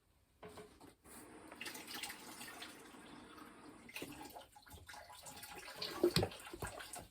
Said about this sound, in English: I'm going to fill this up with water real fast.